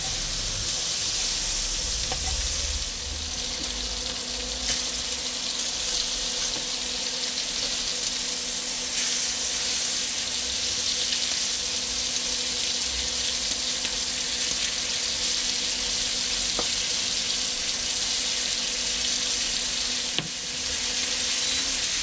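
Tuna steaks sear in butter in a hot pan, a steady, loud sizzle and hiss that carries on unbroken with no talking over it.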